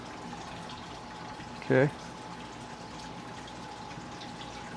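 A Hygger DC Pro wavemaker pump moves aquarium water with a steady low wash and hum throughout, and a voice speaks briefly over it.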